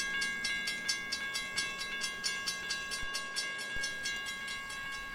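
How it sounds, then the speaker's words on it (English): A northbound CSX freight train on the Fitzgerald Subdivision rolls steadily past a railroad crossing, its wheels clicking in a regular rhythm over the rails while the crossing bell rings continuously, close and fairly loud, with no voices. "It's a train heading north that I see quite often."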